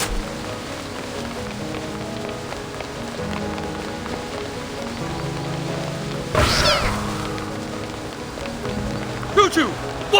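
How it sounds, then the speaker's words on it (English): Cats from the video game Reverse: 1999 meow over a steady patter of game rain, with a few sharper effect bursts near the end; voices are faintly present in the mix. "What are all these splinter cats doing here?"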